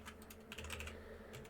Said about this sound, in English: you're going to start by just typing it in